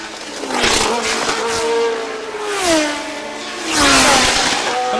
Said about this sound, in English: Mario Andretti driving straight past Fittipaldi, and now closing on Ian Scheckter